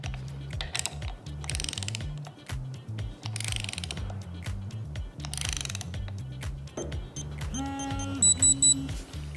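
A STRWrench smart torque wrench ratchets a bolt up to a 140 newton-meter target, repeated rhythmic clicking strokes of the pawl mechanism, close and crisp, ending in a series of electronic beeps.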